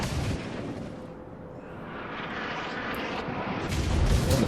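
Battleship guns firing in World of Warships during a North Carolina battle replay, heard as a deep, sustained rumble of distant naval gunfire and explosions. The din swells toward the end, and there is no talk.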